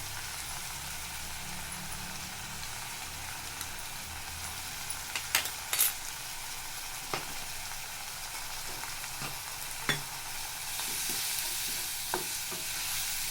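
Spices and onion sizzle and fry in a pan for chicken sukka, with occasional sharp scrapes and taps of a stirring spoon over a steady hiss that swells near the end.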